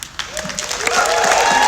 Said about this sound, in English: Please give a round of applause to the candidate and this panel.